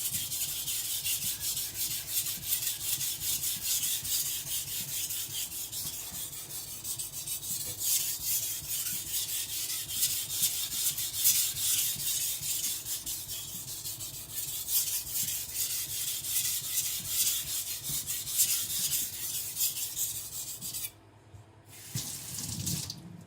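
A Tojiro white steel shirogami nakiri being sharpened and thinned on a wet whetstone, with steady close rasping strokes over continuous water, stopping briefly near the end.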